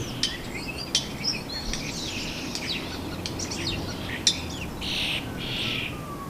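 Starlings and other songbirds in a nesting tree give high whistles interspersed with sharp clicks, a scattered series of calls that are fairly faint over a quiet outdoor background.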